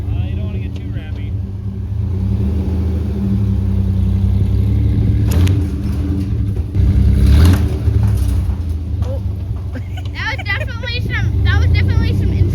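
Small Mazda Miata driving up and ramming a building, a loud steady engine drone with a thump and scraping impact midway, heard close over people talking and shouting.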